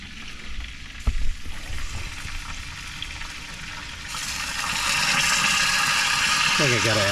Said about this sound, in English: You hear all the grease from the chicken.